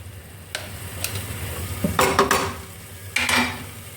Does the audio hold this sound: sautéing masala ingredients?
yes